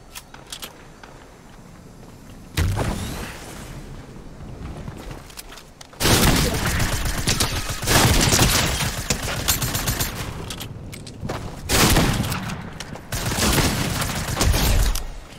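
Video game gunfire from the player's weapon, repeated loud bursts of shots and impacts coming in several waves, with footstep-like movement between them.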